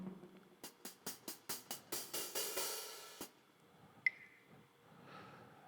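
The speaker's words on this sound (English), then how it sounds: "that's called the Boutique Mallet" XLN Boutique Mallet samples play alone, a quick run of about ten bright struck tones that speeds up and swells into a dense roll, then breaks off, followed by a single sharp ping and a faint tail.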